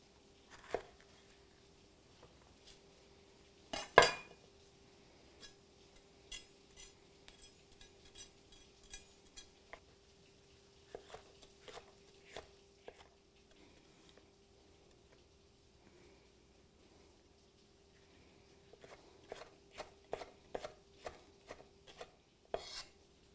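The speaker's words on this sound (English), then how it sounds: "We're going to basically just julienne these jalapenos." A knife julienning jalapeños on a cutting board gives sparse, quiet taps in scattered clusters, with long pauses between bursts and a faint steady hum underneath, close by and with no one talking.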